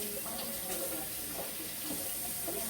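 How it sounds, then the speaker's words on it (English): Water running steadily from a kitchen tap while hands are washed during cooking, a soft continuous hiss with faint splashing, fairly quiet and alone. "Let me wash my hands off."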